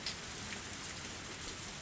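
Sudden rain in the game Higurashi falls as a steady, even patter and hiss throughout, moderately quiet with no voices.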